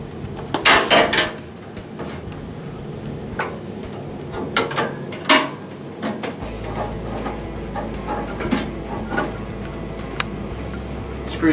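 The filter drawer is slid back into an Anets 14GS commercial fryer with a series of hard metallic clunks and knocks, loud and close, followed by a steady low hum.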